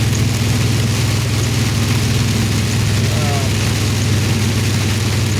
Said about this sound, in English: It's pouring out here.